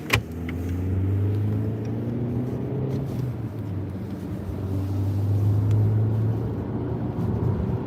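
A 2008 Audi A6 2.0 TFSI petrol engine with 125 kW is revved while stationary, giving a steady close hum that climbs and falls through two long swells and has no talk over it.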